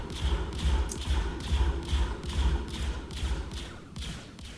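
A fixed, wing-mounted ship weapon in the Star Citizen game fires a steady volley of about nine heavy, thudding shots at an even rhythm, loud and close, with no talk over it.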